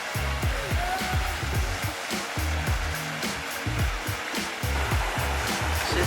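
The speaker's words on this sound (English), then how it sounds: "That's the lock door. The water oozing out there." Water seeps and gushes through a canal lock gate in a steady, loud rushing wash that carries on without a break, with some low rumble underneath.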